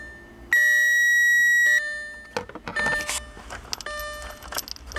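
Switching on the ignition sets off a car's electronic warning chime, a loud sustained tone that stops after about a second, followed by key jingling, clicks and another brief beep.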